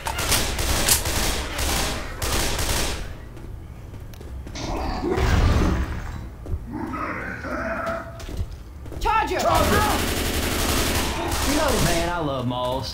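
Left 4 Dead 2 gunfire in the Dead Center campaign: dense bursts of rapid machine-gun and rifle shots come in loud waves, with characters' voices speaking in between and over the shooting.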